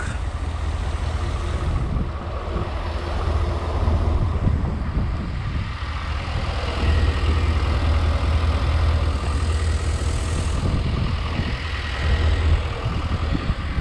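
A 2021 Nissan Rogue engine idles on bad fuel, a diesel and ethanol mixture, with a steady, loud, low rumble that runs continuously with no one talking.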